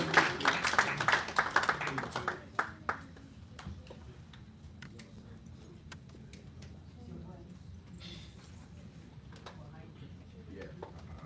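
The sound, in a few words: audience clapping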